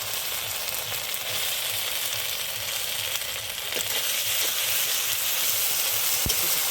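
A ground spice paste of ginger, coriander, cumin and pepper fries in hot oil in a pan, giving a close, steady, continuous sizzle and hiss with no voices.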